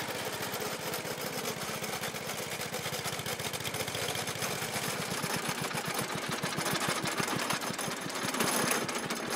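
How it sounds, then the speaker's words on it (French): A small aircraft engine runs steadily and loudly throughout, a dense continuous drone with a rhythmic low-frequency pulsing that quickens slightly toward the end. "Et puis en plus, c'est un moteur d'avion."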